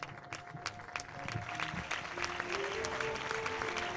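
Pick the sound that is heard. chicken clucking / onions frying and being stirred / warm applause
warm applause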